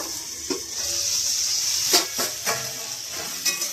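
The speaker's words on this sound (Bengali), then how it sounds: "আমার কপিটা ভাজা হয়ে গিয়েছে" Cauliflower florets fry in hot oil in a pan, a steady sizzling hiss punctuated by a few sharp crackles and stirring clicks.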